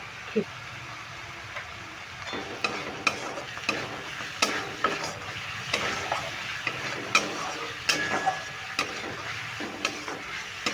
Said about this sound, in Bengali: এটা আমি খুব ভালো করে কষিয়ে নিলাম